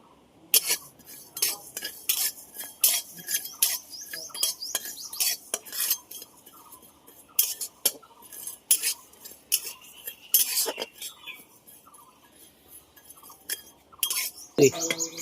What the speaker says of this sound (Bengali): এবার আমি মশলাটাকে ভেজে নেব।